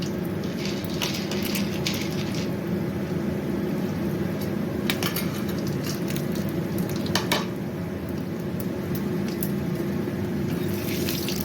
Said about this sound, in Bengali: আমি বেগুনগুলো ভেজে নেব